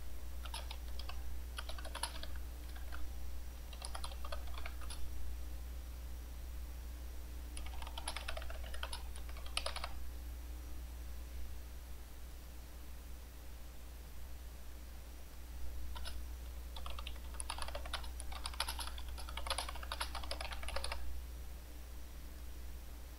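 Bursts of typing on a computer keyboard, several short clattering runs separated by pauses, close and steady over a low constant hum with no talking.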